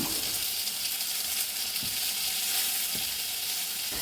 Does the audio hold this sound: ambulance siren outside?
no